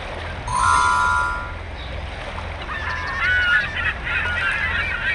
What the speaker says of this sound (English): Seagulls.